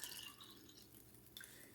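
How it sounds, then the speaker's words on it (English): Chicken broth pours briefly into a metal soup can, a soft splashing trickle that stays close and quiet. "pouring some of that 3 cups of chicken broth in here"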